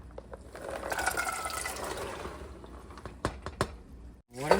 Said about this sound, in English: Water, add it.